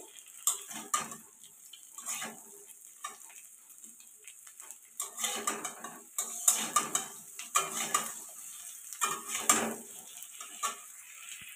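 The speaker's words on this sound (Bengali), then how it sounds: "ঝিঙেটা দেওয়ার পরে কিন্তু ভালো করে কষিয়ে নিতে হবে" Ridge gourd is sautéed in a pan as the base of a katla fish curry with potatoes. A spatula scrapes and clatters against the pan in repeated, uneven strokes, close by and fairly soft, with no talk.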